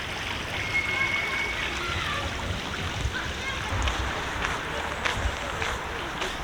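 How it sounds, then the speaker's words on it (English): Small waterfalls in a renovated Vilnius park splash and rush steadily as a broad, continuous water noise, fairly close, with no talk over it. "These small little waterfalls."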